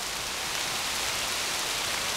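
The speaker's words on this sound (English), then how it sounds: "Might be raining, but I'd rather be out here in the rain than with the rest of society." Steady rain falls in suburban bushland, a continuous soft hiss of drops on the surrounding surfaces with no voices.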